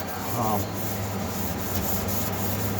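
Someone scrubs rust buildup near a heating element, a close, continuous rubbing and scraping of even texture throughout.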